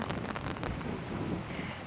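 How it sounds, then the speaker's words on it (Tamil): Strong wind and rain buffet a microphone outdoors, making a dense, steady roaring rumble that stays close and loud throughout, with no voices. "சரியான காத்து, மழை."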